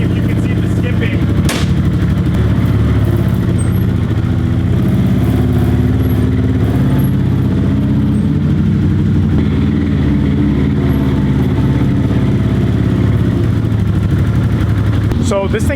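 A side-by-side UTV engine starts and runs loud and close, idling with a steady rough rumble and a sharp pop near the start, continuing unbroken throughout.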